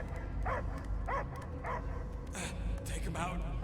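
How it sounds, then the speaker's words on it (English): A possessed creature barks and yips repeatedly in Marvel's Guardians of the Galaxy video game, several rhythmic dog-like barks over a low rumbling score, followed by a voice speaking. "I hear only barking."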